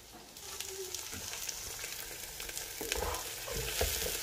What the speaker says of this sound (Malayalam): തക്കാളി ഇട്ടിട്ട് നന്നായിട്ട് ഇളക്കണം